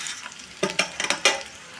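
Chili fritters (pakoras) sizzling in hot oil while being stirred, with a soft steady fry broken by several sharp bursts of spattering and stirring clatter, close and fairly loud, no voices.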